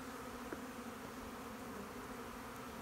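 Honeybees buzz in a dense, continuous drone around an open hive, close and steady throughout with no talking.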